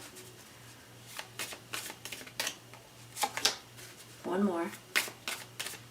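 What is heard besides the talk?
tarot cards being shuffled and drawn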